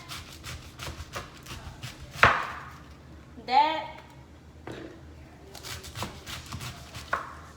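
Kitchen knife chopping crosswise through cabbage on a cutting board during low-carb meal prep, a series of sharp close thuds at an uneven rhythm with a few louder cuts standing out.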